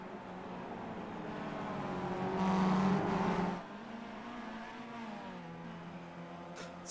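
Race cars lapping VIR South in iRacing, steady engine drone swelling as cars pass close and loud, then receding into a lower continuous hum of several cars running together.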